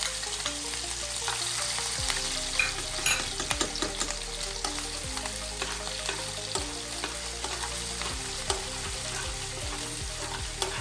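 Crushed ginger and garlic frying in hot oil in a pan, a continuous close crackling sizzle with scattered pops and occasional utensil scrapes, loud and steady throughout.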